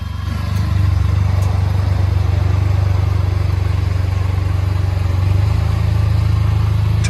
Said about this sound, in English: Hyundai Genesis Coupe.